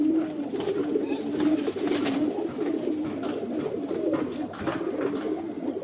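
Several Lal Jira Khaki fancy pigeons coo in soft, repeated low murmurs close by, with a faint rustle and a little background noise throughout.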